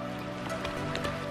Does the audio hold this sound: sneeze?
no